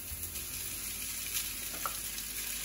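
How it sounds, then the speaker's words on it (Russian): Rice and egg fry and sizzle in a hot pan while being stirred, a steady close crackling hiss with occasional scraping from the stirring and no talk. "И все время перемешиваю на сковороде, так, чтобы яйцо поджарилось."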